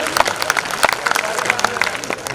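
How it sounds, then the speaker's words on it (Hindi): Audience applause at a women's day kavi sammelan poetry gathering, dense scattered clapping from a crowd, fairly close and continuous over a short burst, with faint voices mixed in. "इन सब के लिए आप जोरदार तालियां बजा दीजिए।"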